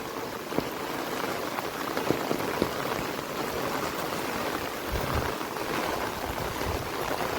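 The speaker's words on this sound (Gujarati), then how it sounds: "આ વરસાદ જેમ પવન આવે છે એમ પવનને હારે વરસાદ વધે." Heavy rain falls with gusting wind, a steady broadband wash with scattered drop ticks throughout, even and moderately loud with no voices.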